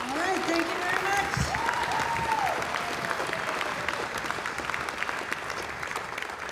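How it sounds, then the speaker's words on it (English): An audience applauds steadily and warmly, the clapping dense and continuous throughout, with a few whoops and voices rising above it early on. "Another big round of applause for these guys."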